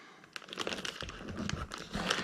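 Packaging on a Yugo M70AB2 AK rifle parts kit is cut open, heard as brief, close crinkling and rustling of plastic and wrapping with a few crisp crackles.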